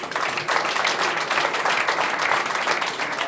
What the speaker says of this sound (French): Et vous devez les applaudir.